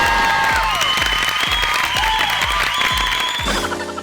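A game show studio audience applauding on Bol Bachan Show, steady clapping under a loud music sting with a thumping beat, tapering off near the end.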